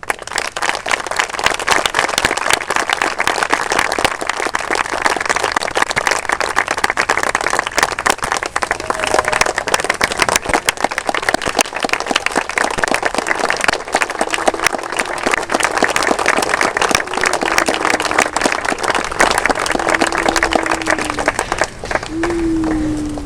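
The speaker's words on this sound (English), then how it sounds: "How about one more round of applause?" A ceremony audience gives a long round of applause, dense, loud clapping that continues steadily for over twenty seconds, with a few voices rising near the end.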